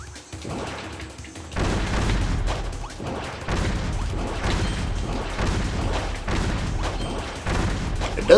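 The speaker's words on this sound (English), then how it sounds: "It does explode into fireworks," Bomb ability blasts in Kirby's Return to Dream Land, with bombs bursting into fireworks: a dense run of loud, repeated booms and crackling pops over game music, with no pause between them.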